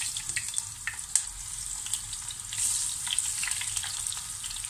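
Potatoes fry in a pan with a soft, continuous crackling sizzle, punctuated by a few sharper pops and a brief stir.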